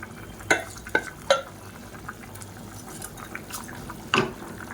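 Soaked basmati rice stirred gently into boiling water for potato and peas masala rice, a soft bubbling bed broken by several sharp spoon knocks against the pot, no voices.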